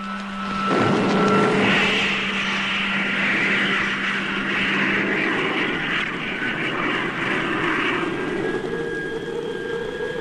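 Rocket motors firing in a classic British science-fiction radio drama about a journey to the Red Planet: a loud, sustained roaring rush with a steady low hum at first, holding for the full ten seconds without speech.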